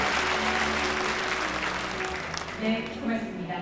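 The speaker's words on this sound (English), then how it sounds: "Let's greet each other with one more warm round of applause" A warm round of applause at a peace declaration commemoration ceremony, a full crowd clapping that fades toward the end as a voice begins speaking over a tonal background.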